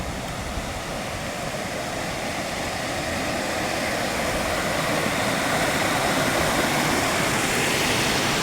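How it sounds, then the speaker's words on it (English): Queen Mary's Falls near Killarney, Queensland, in rainforest, gives a constant, dense rushing roar of falling water that stays steady and slightly swells over several seconds, with no voices. "I can already hear the water,"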